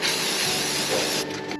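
Ripiderma is sprayed onto a cow's knuckled-over hoof in one loud, close, continuous hiss of about a second and a half, with no talk.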